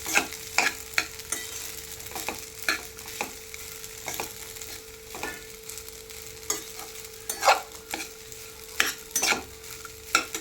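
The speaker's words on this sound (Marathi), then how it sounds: "हलवत राहायचं" Sabudana khichdi being stirred in a frying pan, a spoon scraping and knocking in repeated strokes over a faint steady sizzle, close and moderately loud, with no talking.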